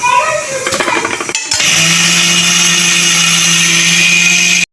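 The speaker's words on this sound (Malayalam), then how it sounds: "മഞ്ഞപ്പൊടി ഒന്ന് അരച്ചെടുക്കാം" A mixer grinder grinds turmeric in a loud, steady high-pitched whir. It follows a brief rattling start, then runs constantly before cutting off abruptly.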